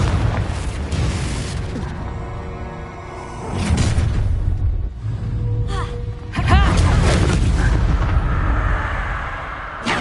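Confringo blasting spell from the Hogwarts Legacy video game, several booming explosive bursts, loud and close, overlapping game effects and a voice.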